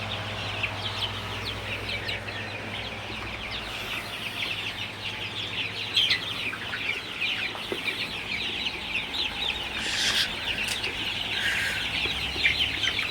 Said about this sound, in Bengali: আমার মুরগিগুলা হচ্ছে ফ্যানের সামনে বসে বাতাস লাগাইতেছে